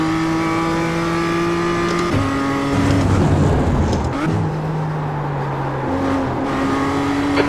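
A BMW M2 CS race car engine in the iRacing sim at Laguna Seca drones loudly, with sustained revs that drop at gear shifts and climb again as it accelerates, with no talk over it.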